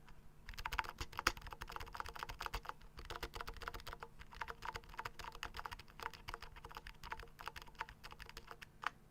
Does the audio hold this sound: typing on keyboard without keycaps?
yes